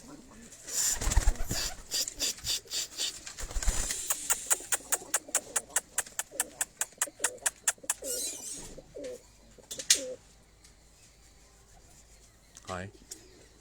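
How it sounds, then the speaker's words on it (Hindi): Pigeons cooing in a loft while birds are handled, with rapid rhythmic rasping and rubbing bursts, wing flutters and brief soft coos, some fainter voices in the background. "ये एक और कबूतर है, ये भी उसी कलर में"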